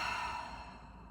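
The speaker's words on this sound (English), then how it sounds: "Exhale through the mouth." A single soft exhale through the mouth during a guided breathing exercise, a close breathy whoosh that fades gradually over about a second, with no speech.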